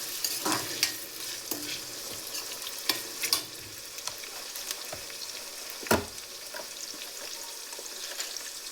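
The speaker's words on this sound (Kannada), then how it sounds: "ಟೊಮೊಟೊನ ಚೆನ್ನಾಗಿ ಮಿಕ್ಸ್ ಮಾಡ್ಕೊಳ್ಳಿ." Tomatoes stirred in a frying pan while cooking puliyogare, close sizzling under irregular spatula scrapes and clinks, with a few sharper knocks against the pan.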